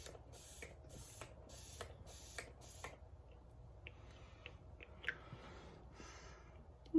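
A drugstore makeup setting spray lets out a series of short, fine misting bursts up close, about five quick puffs in the first three seconds, followed by quieter handling sounds.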